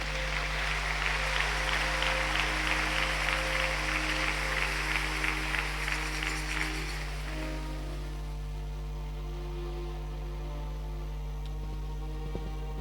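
A church congregation applauds God during a French-language service, a broad wash of clapping that runs for several seconds and then fades out, leaving a steady low hum.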